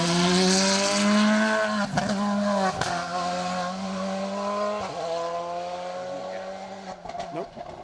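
Volkswagen Polo rally car number 6 on an asphalt rally stage, its engine a loud sustained drone close by with gear-change dips and brief tyre noise, while a commentator talks over it.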